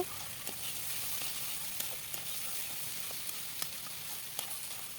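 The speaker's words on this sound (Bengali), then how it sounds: "এবার আমি আবার ভালো করে মিশিয়ে নিব" Noodles are stirred in a pan with salt and turmeric, a steady close sizzle with faint scrapes and taps as they are turned, no talk.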